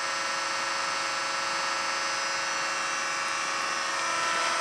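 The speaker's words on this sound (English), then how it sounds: "The machine has now emptied the pan and has begun refilling the vehicle's transmission pan." A TSD450 fluid exchange machine refills a vehicle's transmission pan with a steady, loud electric pump whine and buzz that holds constant throughout, with no talking.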